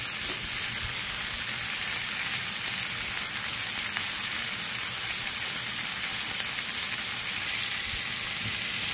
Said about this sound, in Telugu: టమాటాలను మగ్గనిద్దాం।